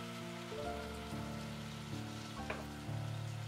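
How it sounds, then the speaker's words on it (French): Crushed tomato goes into a pot of softened, translucent onion for a vegan one-pot bolognese, raising a steady hiss of sizzling that sits under background music. "Quand l'oignon est translucide et a ramolli, je rajoute de la tomate concassée."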